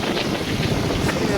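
Cold wind rushing past a moving motorbike at night during the rainy season, a steady buffeting roar against the microphone with a voice talking over it.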